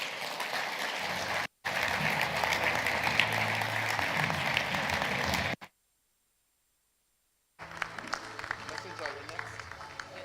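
Applause from a conference audience at a startup demo day, a broad rain-like wash of many hands clapping, steady and fairly distant, broken by two abrupt silent gaps before resuming.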